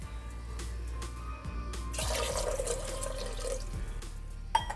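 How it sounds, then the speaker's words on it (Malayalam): Water runs into a pressure cooker holding jackfruit seeds, a steady close pouring splash that grows fuller midway over a low background hum, ending with a brief clink and no talk. "അപ്പോൾ അതിനാവശ്യമായിട്ടുള്ള വെള്ളം ഒഴിച്ചു കൊടുക്കാം."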